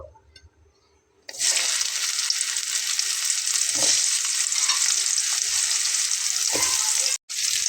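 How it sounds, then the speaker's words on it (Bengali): Bitter gourd pieces hit hot oil with turmeric, bursting into a loud, steady, close sizzle after a quiet start, with a soft clack of a spatula partway through. "সেটাকে প্রথমে এভাবে ভেজে নিতে হবে"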